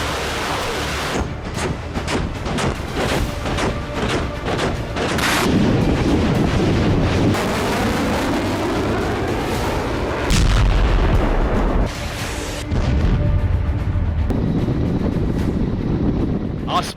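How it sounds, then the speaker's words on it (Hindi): Artillery fire and explosions in the war in Ukraine, deep heavy booms and rumbling blasts with wind buffeting the microphone, loud and repeated, under a news narrator's voice. "आसमान से बारूद बरस रहा है। यूक्रेन बर्बाद हो रहा है।"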